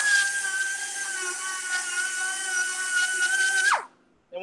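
A small handheld air-powered rotary tool, Dremel-like, whines at a high steady pitch while lightly cleaning a bicycle fork, then spins down and stops near the end.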